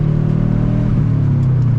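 A naturally aspirated Subaru with an unequal-length aftermarket catback exhaust idles and revs, giving a loud, close, continuous burbling drone with a slight rise in pitch partway through and no voices.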